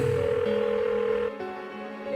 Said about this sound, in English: Why won't she pick up the phone?